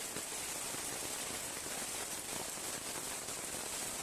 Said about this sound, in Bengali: এখন গাজীপুরে প্রচুর বৃষ্টি হইতেছে